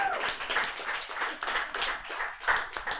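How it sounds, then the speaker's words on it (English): Comedy club audience at the Comedy Yacht Club claps, a loose patter of hands from a modest crowd with uneven surges and no voices over it. "so give yourselves a round of applause"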